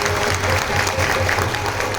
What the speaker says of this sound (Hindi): एक बार फिर से जोरदार तालियां हो जाए।